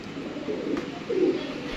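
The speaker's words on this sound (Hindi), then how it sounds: "ये जी माशाल्लाह टैडी कबूतर है" A Teddy pigeon gives a low, soft coo, then a second, slightly louder one, close by over a faint steady background hum with no speech.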